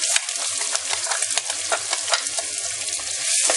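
Onions frying in oil seasoned with cinnamon, cloves and cardamom, a bright continuous sizzle with crackles, close and fairly loud, with faint stirring.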